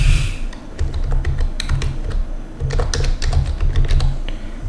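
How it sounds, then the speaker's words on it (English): Typing on a computer keyboard, a quick irregular run of close key clicks over a steady low hum, with no talk. "So I'm going to go ahead and type in"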